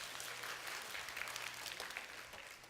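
A youth congregation in a church hall gives a faint, brief round of applause, a continuous patter of many hands clapping at a distance.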